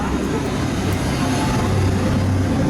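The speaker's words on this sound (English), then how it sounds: "I love how this effect goes off here as well when the train passes over." The F.L.Y. flying roller coaster train at Phantasialand passes overhead, a loud, steady rumble and roar that fills the whole stretch without letup.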